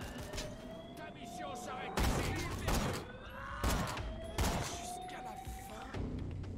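Rapid bursts of weapon fire in the video game Borderlands: The Pre-Sequel, several loud thumping volleys at roughly even intervals over a busy, dense game soundscape.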